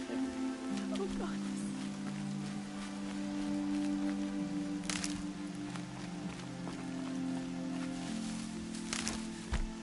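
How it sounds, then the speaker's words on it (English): Soft, steady rainfall patters on surfaces with scattered droplet taps in the video game Horizon Zero Dawn, accompanied by low sustained musical tones. "Rain's not so bad."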